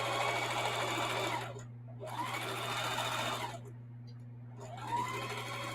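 A sewing machine runs steady bursts of stitching through a thick camo tote bag fabric, a continuous whirring hum that pauses briefly twice before starting up again, close and fairly loud.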